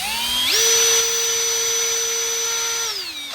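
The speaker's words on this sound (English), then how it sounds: "now you can clean it with that nylon brush" A powered nylon brush spinning inside a diesel engine injector hole, giving a near, steady high-pitched whine that spins up quickly, holds for a few seconds, then winds down.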